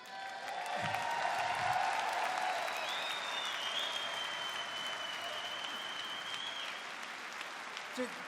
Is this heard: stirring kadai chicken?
no